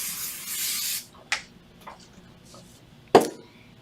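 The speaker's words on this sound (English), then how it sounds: "I am going to use some Pro Spray." Pro Spray aerosol hisses onto a neoprene wine koozie in one close, steady burst lasting about a second, followed by a few light handling taps and a sharp knock near the end.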